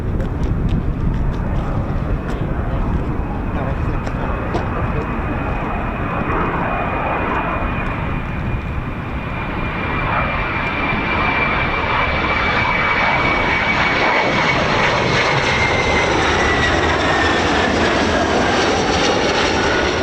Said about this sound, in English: I can definitely hear an aircraft.